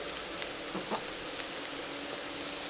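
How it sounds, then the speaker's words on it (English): Vegetables sizzle in a hot pan, a constant frying hiss with a few faint crackles and clinks. "Oh, lovely sizzle sound."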